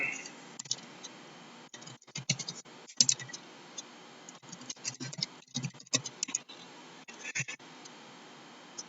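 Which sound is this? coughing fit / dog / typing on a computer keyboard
typing on a computer keyboard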